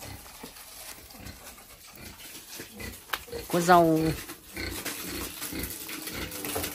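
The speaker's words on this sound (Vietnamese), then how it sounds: "Cho con lợn ăn." Pigs being fed at a Hmong family's rural home let out a brief squealing grunt amid steady background noise, heard under people talking nearby.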